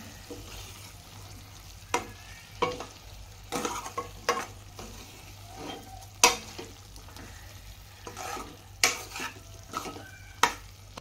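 Brinjal with peanut powder frying in oil in a pan, stirred with repeated close scraping strokes at irregular intervals over a soft continuous sizzle.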